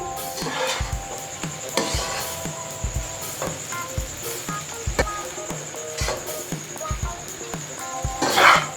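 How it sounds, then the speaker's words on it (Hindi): Macaroni being stirred with masala in a pan for spicy egg masala macaroni, giving repeated scraping and clinking strokes with a soft sizzle throughout, close and moderately loud. "मैक्रोनी डालने के बाद इसको हम मसाले के साथ अच्छी तरह से मिक्स करेंगे"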